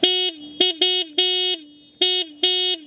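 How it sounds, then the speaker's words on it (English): The horn of a BMW CE 04 electric scooter sounds six close, loud toots, some short and some held longer, with brief silent gaps between them. "horn check for the BMW CE04"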